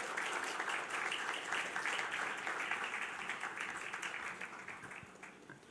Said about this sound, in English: To me, the applause was lukewarm.